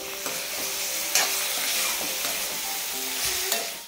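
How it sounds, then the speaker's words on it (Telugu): Onions frying in a pan ahead of chicken fry give a continuous close sizzle, with a few sharp spatters and light stirring clicks throughout, and no talk. "చికెన్ ఫ్రై అయినా సరే ముందు ఆనియన్స్ని ఫస్ట్ ఫ్రై చేసేస్తాను అనమాట"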